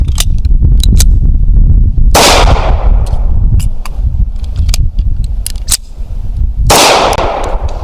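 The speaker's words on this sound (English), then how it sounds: "Now let's do this live fire." Live-fire gunshots at a target on a range, two loud, close blasts several seconds apart, each with a ringing decay, and lighter clicks and handling noises between them.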